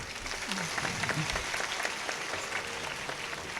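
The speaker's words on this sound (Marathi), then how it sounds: "तुमची टाळी तर अशी वाजते जणू 10 रुपयाला एक टाळी आहे तुमची" An audience at a kirtan gives a dense, even round of applause, many hands clapping together at moderate, fairly distant volume for a few seconds.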